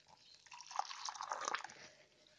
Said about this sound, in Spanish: Y ahora le echo aquí otro poco más de ese mismo agua.